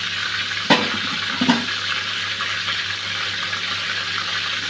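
Chicken pieces frying in a pan make a steady, moderately loud sizzle, and two brief clatters of a utensil come early on. No one speaks.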